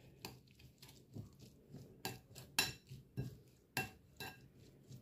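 Metal spoon clinks against a bowl while a cucumber sandwich filling with salt, pepper and green chilli is mixed, with about ten sharp, irregular taps, some loud and close.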